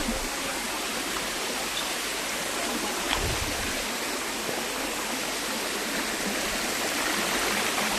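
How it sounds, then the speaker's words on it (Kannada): The Kundadka waterfall, running low on water, gives a steady broadband rush, continuous and fairly close, with no break across the whole stretch and no voices over it. "ಫಾಲ್ಸ್ ಅಲ್ಲಿ ಸ್ವಲ್ಪ ನೀರು ಕಮ್ಮಿ ಆಗಿದೆ"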